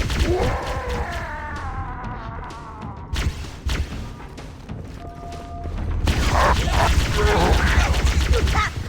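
Gunfire in Halo: Combat Evolved, bursts of shots and thuds scattered through the scene, growing denser and louder toward the end, mixed with game sounds and occasional voices.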